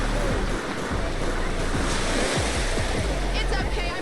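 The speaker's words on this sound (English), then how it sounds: "Waves crash near the ocean." Ocean waves crashing in GTA San Andreas, heard through an ambient sound mod. A loud, continuous roar of surf and wind fills the clip with little variation.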